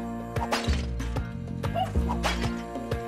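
A cartoonish puppy in the video game Spelunky 2 yips in short bright barks, several quick bursts in a loose rhythm over looping game music and effects.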